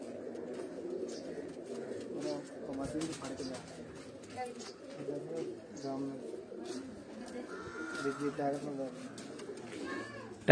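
Flying pigeons kept by a fancier cooing softly and steadily, with a low murmur of birds throughout and faint chirps near the end, heard in the open with no talking.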